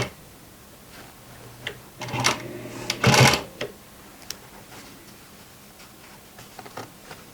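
A sewing machine stitches a jeans seam at a shortened stitch length, giving a slow, brief run of close mechanical clatter with scattered light ticks and clicks before and after.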